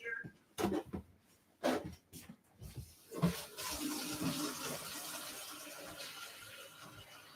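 Water pours into plastic jugs for a hydroponic seed-starting setup, beginning with a few short splashes and then settling into a steady, continuous rush that gradually softens.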